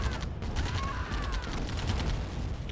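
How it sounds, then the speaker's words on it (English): Rapid, dense volleys of booming artillery fire and explosions in Command & Conquer: Tiberian Dawn, loud and continuous throughout the short clip. "Artillery, of course, going to do some devastating damage to the refinery."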